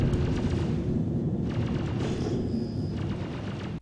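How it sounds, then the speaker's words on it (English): Enemy gunfire pounding a player ship in the space game Star Citizen: a dense, continuous roaring barrage of booming impacts, loud and close, ending in an abrupt cutoff. "They are shooting at me."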